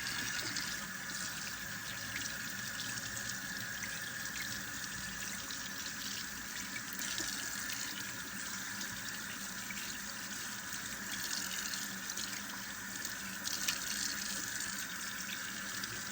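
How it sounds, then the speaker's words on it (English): Steady tap water runs continuously from a faucet, rinsing blood off a large catfish being filleted, a constant close splashing hiss with no speech. "So my first step is simply just to rinse all of the blood stuff off."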